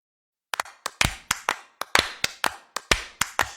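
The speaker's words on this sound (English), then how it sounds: "Pick the rhythm you like and clap along." Hands clap along in a steady, even rhythm, about four claps a second, close and distinct with no talking, as a church congregation joins in during a service song.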